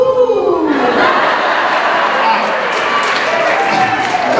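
A live event crowd lets out a loud, sustained "ooh" at an emcee's prompt, a dense wash of many voices swelling and holding for several seconds, close and full.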